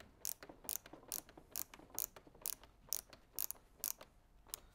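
Screws are hand-tightened into the arms of a Bambrella Sirocco parasol canopy, giving a close, quiet series of about a dozen regular ratcheting clicks at a steady rhythm.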